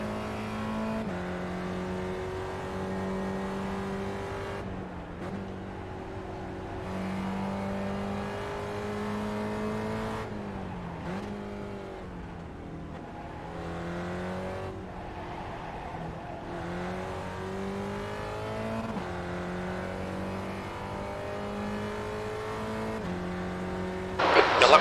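A Spec Racer Ford race car in iRacing, engine droning steadily from the cockpit, pitch climbing and dropping through shifts and braking zones, with brief tire noise and a sharp burst at the very end.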